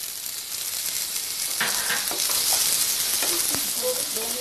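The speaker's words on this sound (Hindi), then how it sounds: "इसको 2 मिनट के लिए हमें भूनना है ताकि मेरी खीर बहुत ही अच्छी बने।" Rice fries in a pan for kheer, giving off a loud, dense, continuous sizzle and hiss, with a few scraping stirs near the end.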